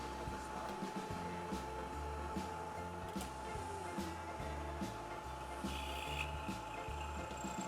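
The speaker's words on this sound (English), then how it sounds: "Turn on the motor, then plunge the end mill into the hole." Milling machine motor running steadily with a constant tonal hum while an end mill plunges into the workpiece, a low rhythmic mechanical chugging throughout and a brief higher hiss near the end; no talk.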